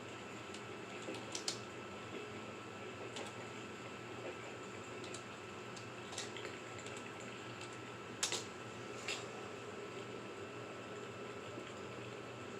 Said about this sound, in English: I'm sitting here abbreviating while I'm typing.